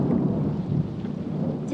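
Steady rain pours down with a broad, continuous hiss and low rumbling, like a heavy downpour with distant thunder, no voices.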